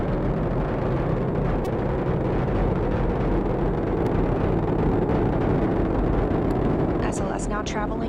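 SLS rocket engines thunder during the Artemis 1 launch near max thrust, a loud continuous low roar with crackle under a commentator's voice.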